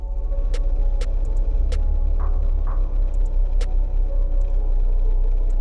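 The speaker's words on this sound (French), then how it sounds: "là on est au ralenti, la voiture elle est semi-chaude" Rover GTI 16 engine idling while semi-warm, a steady low throbbing rumble with a fine ticking pulse, close and loud, and a few sharp metallic clicks scattered over the idle.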